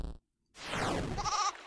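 A goat bleats in a video game, a brief sharp cry cut off by a short silence, followed by a louder swelling electronic sweep and tones.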